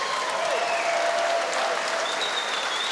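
A boxing crowd at Mechanics Hall applauds both fighters after a four-round bout, a brief wash of steady clapping with faint whistles over it.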